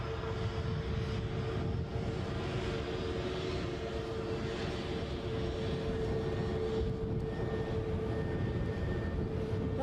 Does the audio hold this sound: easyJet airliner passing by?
yes